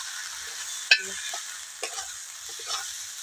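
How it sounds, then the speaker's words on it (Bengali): Ginger stirred and fried in a pan with a spoon while a kachori is being made, a steady soft sizzle under a few light scrapes and clinks, with no talk. "চামচ আদা দিয়েছি দিয়ে এটা নাড়তেছি"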